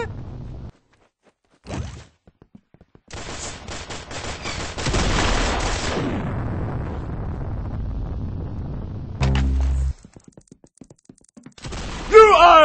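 Weapon fire in the Roblox game Arsenal comes in sharp bursts and a longer rattling volley, separated by stretches of near silence, loud and close.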